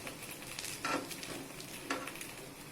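Appe, rice and lentil dumplings, sizzle in a pan in a steady, gentle crackle, with two soft scraping knocks from a utensil as they are turned.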